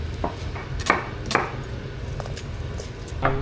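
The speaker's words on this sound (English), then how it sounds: "I'm just now cutting up mint and coriander" Knife chopping fresh mint and coriander on a board for a Thai chicken salad, a handful of sharp, separate cuts spaced irregularly over a low kitchen background hum.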